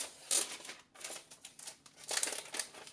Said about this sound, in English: remove the plastic foil